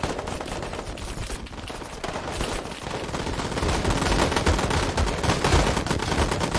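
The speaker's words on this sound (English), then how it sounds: "The Americans are fighting against anti-aircraft guns and heavy machine guns." Anti-aircraft guns and heavy machine guns fire in a Call to Arms battle, a dense, continuous barrage of rapid bursts and booming shots that builds louder toward the end, with no talking over it.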